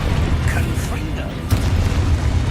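Fiery Confringo spell blasts from Hogwarts Legacy, a dense booming burst with a sharp crack about halfway through, loud and continuous over low rumbling game audio.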